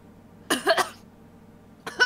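A young woman coughing after her first drag from a pipe, two sharp, close bursts separated by a short pause, harsh and raspy.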